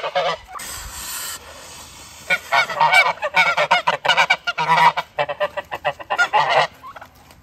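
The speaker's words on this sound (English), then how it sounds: "those angry geese just yelling all the time" A flock of geese honking loudly and insistently, harsh overlapping calls in rapid bursts, close by with no talking.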